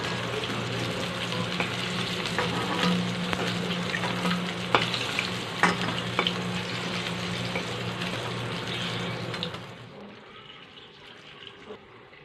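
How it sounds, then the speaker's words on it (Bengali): Pieces of rohu fish sizzle in hot oil in a pan, a close, steady crackling fry with small pops and the odd scrape of a utensil, fading down near the end. "এই মাছগুলো ভাজা হয়ে গেছে"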